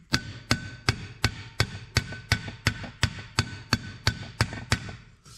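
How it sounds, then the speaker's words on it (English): A ball peen hammer taps sheet metal in a steady series of about fifteen sharp, ringing metallic strikes, evenly spaced and close by. "I'm gonna go through here and kind of tap around in this area"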